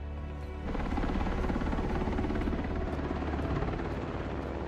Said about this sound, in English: He gets to fly helicopters.